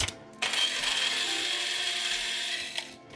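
Fresh coffee beans ground in a grinder at home, a loud continuous whirring, rattling grind that starts sharply, holds steady for a few seconds, then cuts off, close to the listener.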